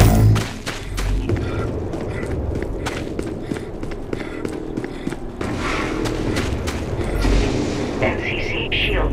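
Heavy booms and mechanical rumbling of a null cannon firing on the MCC during a Dust 514 battle, with repeated impacts over continuous din and some voice chatter.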